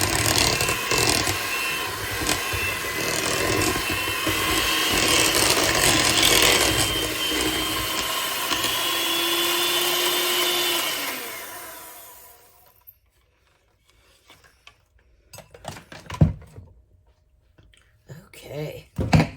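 An electric mixer whirs steadily and loudly through chocolate eclair filling for about twelve seconds, then shuts off, leaving near silence broken by a few sharp knocks and clatters.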